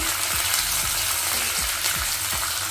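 Grated carrot, ginger and green chillies fry in a pan with a dense, constant sizzle, punctuated by a few soft scraping strokes of stirring.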